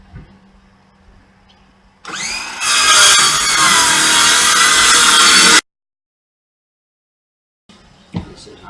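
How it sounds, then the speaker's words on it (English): A power saw cuts through old solid jarrah hardwood floorboards, a loud, steady broadband whine lasting about three and a half seconds before stopping abruptly, with quieter handling noises before and after. "We're well away from the nails, so it's going to be fine to cut through."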